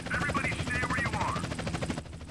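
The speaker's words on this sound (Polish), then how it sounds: "O, helikopter." A steady helicopter rotor drone in GTA San Andreas Definitive Edition, loud and continuous, with engine noise and some game effects, fading slightly at the end.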